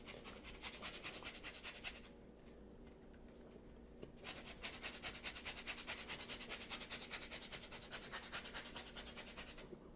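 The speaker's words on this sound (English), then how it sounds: "We take another fresh orange, okay? And you want just get the zest on here, just like this." A fresh orange is rubbed against a zester for glazed carrots, making a steady, rapid rasping scrape that pauses briefly partway through and then resumes, quiet and close with no talking.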